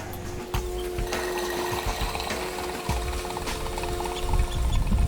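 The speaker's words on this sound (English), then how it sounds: "I'm only going to put a little bit of fuel in here" Fuel trickles steadily into the tank of a John Deere MC crawler, about half a gallon to a gallon, a continuous close pouring wash against a low droning background.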